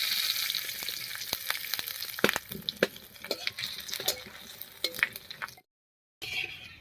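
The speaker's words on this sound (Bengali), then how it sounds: "পাঁচ ফোড়ন আর শুকনো লঙ্কা দিয়ে ফোড়নটা দিলাম" Dried red chillies and panch phoron crackling in hot mustard oil in a kadai, a close sizzle dotted with sharp pops and spits, dropping briefly to silence before resuming.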